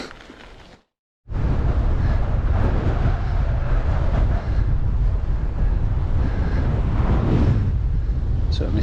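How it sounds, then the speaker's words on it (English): Wind buffets an action camera microphone outdoors on a hill during a mountain bike ride, a loud, continuous low rumble and roar after a brief dropout, with no pause in the gusting. "Certainly still a bit of wind out in the open."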